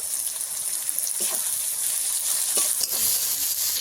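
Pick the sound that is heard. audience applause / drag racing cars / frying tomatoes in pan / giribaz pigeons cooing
frying tomatoes in pan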